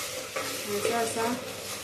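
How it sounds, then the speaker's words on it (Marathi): Ginger garlic paste frying in hot oil, a close, steady sizzle with stirring scrapes over a short stretch and no talking. "छानपैकी तेलात छान असं फ्राय करून घ्यायचा."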